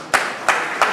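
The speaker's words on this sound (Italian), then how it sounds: "Lo accogliamo con un grande applauso al professore Iano" Claps from an Italian audience welcoming Professor Iano: three sharp, loud broadband bursts about a third of a second apart over a steady background hiss, sounding more like a few close claps than broad applause.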